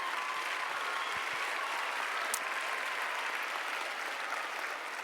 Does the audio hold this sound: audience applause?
yes